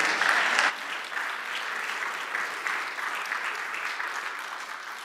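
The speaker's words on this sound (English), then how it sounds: "Let's give them a big round of applause." A church congregation applauds during a worship service, a dense wash of hand claps that starts louder and settles into a steady, sustained round of clapping with no voices over it.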